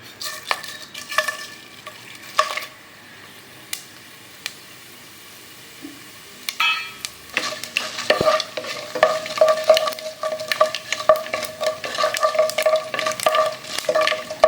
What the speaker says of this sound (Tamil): எண்ணெய் காஞ்சிட்டு இந்த பட்டை, லவங்கம், ஏலக்காய், கடுகு, உப்பு, சோம்பு, காஞ்ச மிளகாய் எடுத்து ஆட் பண்ணிக்கலாம்